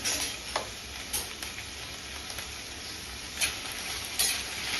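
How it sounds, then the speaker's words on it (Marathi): Capsicum sautéing in oil over a low flame in a kadhai gives a steady, fairly faint sizzle, broken now and then by soft scraping stirs. "शिमला मिरची तेलामध्ये आपल्याला मंद आचेवर परतून घ्यायची आहे"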